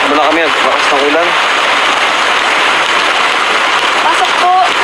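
Steady rain pours down around a makeshift shanty house, a loud continuous hiss with occasional brief chirps and tones over it.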